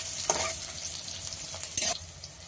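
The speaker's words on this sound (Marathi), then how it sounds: "कांदा चांगला गुलाबी रंग येईपर्यंत परतून घ्यायचा आहे" Chopped onion sautés in oil over popped cumin and mustard seeds, giving a gentle steady sizzle broken by a couple of sharper stirring scrapes, close and moderately quiet.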